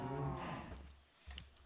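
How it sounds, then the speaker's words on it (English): Blocky cows from the video game Minecraft give a low, drawn-out moo that swells and then fades, followed by a brief, quieter second call near its end. "stupid cows"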